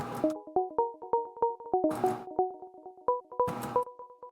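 Sine pluck synth patch built in Serum 2 in the style of a pop song, bright short bell-like plucks playing a quick repeating melodic pattern, alone and clear, with three bursts of noisy percussion hits between phrases.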